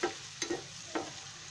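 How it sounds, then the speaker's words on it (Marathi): Chopped onion frying in oil for besan jhunka, a soft steady sizzle with three short scraping stir strokes spaced apart, close and fairly quiet. "आता तो तेलामध्ये टाकते. हा कांदा चांगला फ्राय करायचा आहे"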